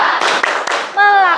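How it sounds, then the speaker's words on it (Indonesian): A group claps together in a rhythmic spirit clap ice breaker, several sharp synchronized claps followed by a voice calling out loudly at close range. "Tepuk semangat."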